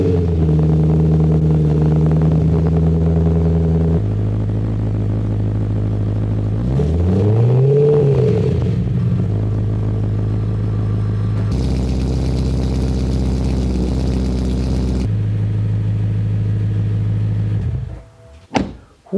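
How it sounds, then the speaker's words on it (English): A BMW M3 V8 with a custom one-off exhaust starts and runs loud and close, holding a deep steady drone, then rising and falling in a single rev before settling and cutting off. "Let's start this car."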